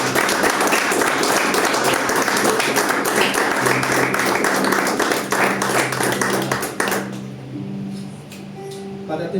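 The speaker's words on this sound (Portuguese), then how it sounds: "Você pode aplaudir Jesus?" Church congregation applauding during a Sunday service, dense loud clapping for several seconds that thins into scattered claps as it fades out near the end.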